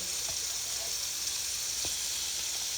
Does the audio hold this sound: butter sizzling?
yes